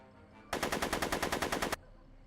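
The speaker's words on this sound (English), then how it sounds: "I'm finding it difficult to concentrate with all the bullets flying around my head, Mr. Crockett." Rapid burst of automatic gunfire in the Back to the Future video game, a single loud stuttering volley of about a dozen evenly spaced shots lasting just over a second, with no talking.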